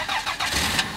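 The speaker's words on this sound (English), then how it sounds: "start the car" A car engine turns over and catches, a short burst of mechanical churning that settles into a running engine, close by.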